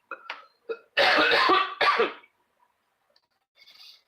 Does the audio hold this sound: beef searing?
no